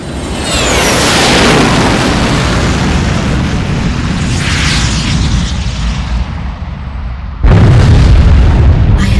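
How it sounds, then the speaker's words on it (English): A deep booming explosion in the video game Ace Combat 6, with a long rumbling blast that rolls on, then a second heavy burst of noise near the end. "Was that a blast of wind from an explosion?"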